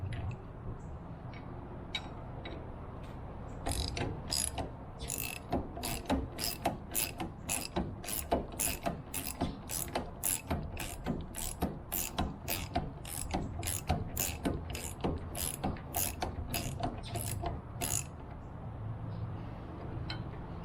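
A ratchet tightens the rear shackle bolts on a C10 truck, clicking in quick repeated bursts of sharp metallic ticks, close up and steady with brief pauses between strokes.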